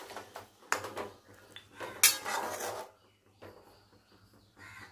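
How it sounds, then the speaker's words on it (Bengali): Dahi chicken curry stirred in a pot with a metal spoon, a few close clanks and scrapes followed by a lid set down, with faint crow calls in the background and no talking. "ভালো করে নেড়ে চেড়ে আবার দিয়ে দেবো ঢাকা।"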